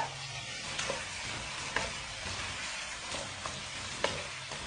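Half a kilo of boneless chicken frying with garlic ginger chili paste for chicken handi, a steady sizzle with occasional scraping stirs, close and alone.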